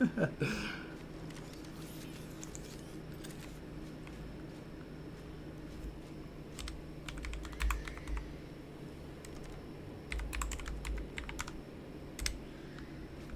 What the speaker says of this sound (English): My typing is terrible right now.